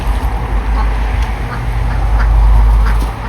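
Close, rapid quacking from ducklings over a loud rumbling background, calls repeating irregularly through the short stretch.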